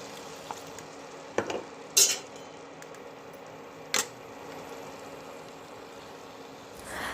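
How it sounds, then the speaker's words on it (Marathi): Masala with chickpea greens stirred and sautéed in a pan, with a soft steady sizzle and a few scattered clinks and scrapes of the spoon against the metal. "मसाला व्यवस्थित मिक्स करून घ्यायचा आहे अशीच परतून घ्यायची आहे"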